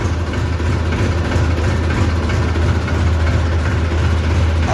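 Loud, steady, close idle of a small Massey tractor engine running a little stiff in the cold, with a constant low throb and no other sounds.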